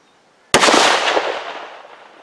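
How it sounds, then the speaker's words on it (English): A single rifle shot fired at a target by a shooter using an ATN Thor 4 thermal scope: one sharp, loud crack close by, followed by a long decaying echo over about two seconds, with no talking. "I'm gonna shoot into this target up here."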